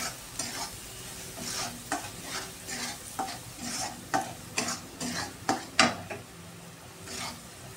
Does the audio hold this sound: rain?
no